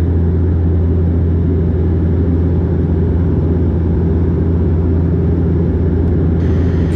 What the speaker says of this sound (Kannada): ಫ್ಲೈಟ್ನಲ್ಲಿ ವೀಲ್ ಓಪನ್ ಆದಾಗ ಲ್ಯಾಂಡಿಂಗ್ಗೆ ರೆಡಿ ಅಂತ ಅರ್ಥ.